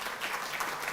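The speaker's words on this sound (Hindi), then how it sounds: "जोरदार तालियां बजती रहें।" A dense burst of applause from a crowd at a Delhi government ceremony honoring Tokyo Olympics athletes, steady and fairly loud throughout the brief moment.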